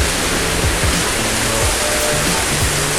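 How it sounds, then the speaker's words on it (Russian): A fountain in Beijing spills down a set of steps in a constant rushing wash of water, close and steady throughout, with a faint low murmur underneath. "на входе такой вот по ступенькам фонтанчик они сделали"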